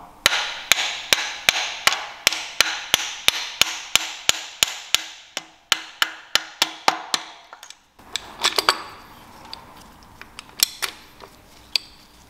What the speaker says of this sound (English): Then tap the crank sprocket on with the copper hammer.